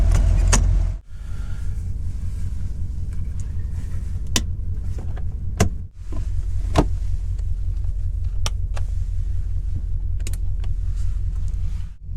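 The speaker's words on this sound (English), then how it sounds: "I'm just gonna let the truck run." An idling truck engine rumbles loud and steady at a campsite, low and constant, with a few sharp clicks and clunks over it and two brief dips.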